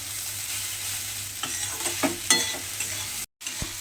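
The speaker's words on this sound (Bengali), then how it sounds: "দিয়ে এবার চিড়েটা এর সঙ্গে খুব ভালোভাবে মিশিয়ে একটু ভাজা ভাজা মতো করে নিতে হবে।" Flattened rice (chira) being stir-fried in a pan, a soft sizzle with clustered scraping stir strokes, fairly quiet and close, with no talk.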